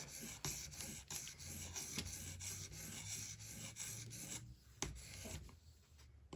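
A Cold Steel 4-Max Scout knife is sharpened on an Edge Pro Apex, with repeated rhythmic rasping strokes of stone on steel at close range, roughly two per second, stopping briefly near the end before a final stroke.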